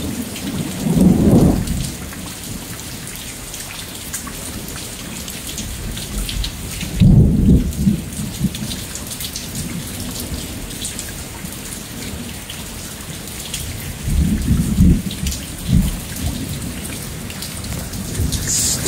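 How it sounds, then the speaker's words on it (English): A heavy thunderstorm over flat ground in Lufkin, Texas brings steady loud rain, broken by three deep rumbles of thunder spaced several seconds apart, with no voices. "the storms move right in and move right back out again"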